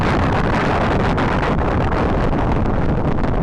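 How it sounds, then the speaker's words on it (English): Strong wind buffets a cheap handheld console microphone beside a lake, a loud continuous roar of gusty rumble and hiss that never lets up. "this recording of a windy lake"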